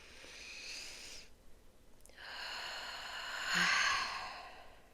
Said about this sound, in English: Let's take one deep breath together.